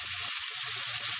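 Yogurt hits a hot tempering of fennel seeds, dry red chili, curry leaves and hing for Rajasthani kadhi, giving a loud, steady hiss across the short moment with low bubbling bursts underneath.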